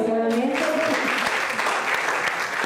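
A congregation breaks into applause during a live church broadcast, sustained clapping that follows a brief stretch of voice at the start.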